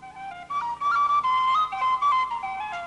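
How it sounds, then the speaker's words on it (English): A tin whistle plays a lively Irish traditional melody, bright ornamented notes sliding and trilling close and clear for a few seconds, alone without voices. "Eugene Lambe began his own musical career on the tin whistle"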